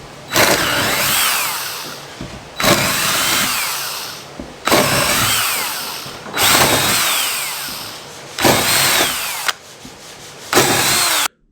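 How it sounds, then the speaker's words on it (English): A power drill whines in five separate bursts, each about two seconds long with short pauses between, drilling out old screw and bolt holes in a boat hull, loud and close with no voices. "So that means that I'm going to end up having to drill them out."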